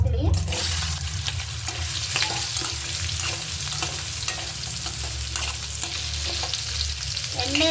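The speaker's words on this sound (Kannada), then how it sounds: "ಬಾಳೆಕಾಯಿ ಹಾಕ್ಕೊಂಡು ಎಣ್ಣೆಯಲ್ಲಿ ಫ್ರೈ ಮಾಡ್ಕೊಳ್ಳಿ." Raw banana pieces fry in oil with curry leaves for a banana kurma, a dense close sizzle broken by repeated stirring scrapes against the pan, with no voices.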